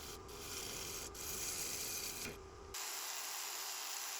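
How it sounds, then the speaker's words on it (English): Sanding the sides of a wooden box turning on a lathe gives a steady, loud broadband rasping hiss that runs continuously, with brief dips in the high end, and no talking. "Then the sides are sanded."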